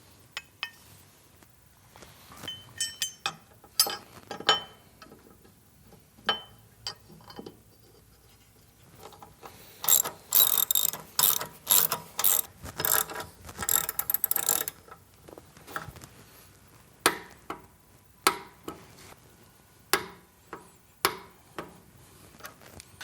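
Ratchet wrench clicking in bursts while torquing 9/16 exhaust bracket bolts on a Harley-Davidson Milwaukee-Eight Softail Fat Bob during a Cobra El Diablo 2-into-1 exhaust install, with sharp metallic ratcheting and scattered tool clinks, close and moderately loud.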